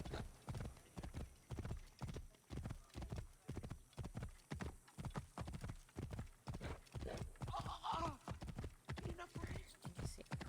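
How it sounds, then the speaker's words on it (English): Horse hooves clip-clop at a steady walking rhythm for the whole stretch in the video game Assassin's Creed Origins, with a brief whinny-like sound partway through. "Probably want to get off my horse."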